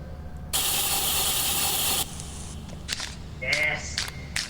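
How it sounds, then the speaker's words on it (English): A loud burst of spray-can hissing in the video game Lethal Company lasts about a second and a half, followed by softer short sprays and clicks as people talk over it. "Are you spray painting the robots?"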